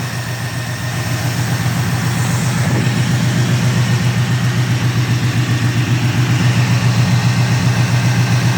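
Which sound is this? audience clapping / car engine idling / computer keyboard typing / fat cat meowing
car engine idling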